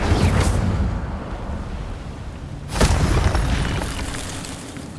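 A fire spell is cast in the video game Hogwarts Legacy: a loud burst at the start, then a sharp whooshing flare near the middle that swells and slowly fades into a sustained roar.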